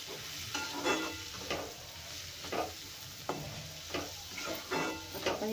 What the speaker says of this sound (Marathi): आता आपण हे छान परतून घेऊया